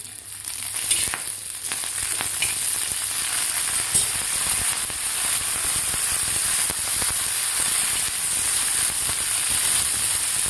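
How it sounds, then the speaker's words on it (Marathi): A spoonful of oil sizzling in a pan with roasted, charred green chillies, a steady close frying hiss with faint clicks and stirring scrapes running throughout. "आता यामध्ये घालायचं आपल्याला 1 चमचाभर तेल."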